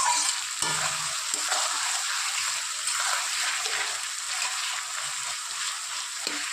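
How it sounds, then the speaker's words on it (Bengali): Onions frying with a little sugar in a pan for a chicken curry give a steady, close sizzle that runs unbroken, with a few soft stirring knocks underneath. "আর পেঁয়াজ ভাজা একটু চিনি দিয়ে ভাজলে কালারটা কিন্তু খুব সুন্দর আসে।"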